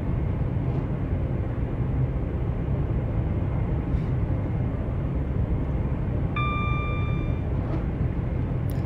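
A fast train runs in Train Sim World 5, giving a steady, dense rumble like a passing airplane, with a brief tonal chime or horn-like sound near the end.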